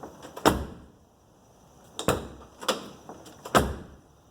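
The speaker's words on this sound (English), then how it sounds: "you can see now the door shuts correctly" The passenger door of a 1985 Mercedes 300CD, fitted with a newly replaced door striker piece, shuts with three solid, fairly close thuds spaced a second or more apart, with lighter clicks and latch sounds between them.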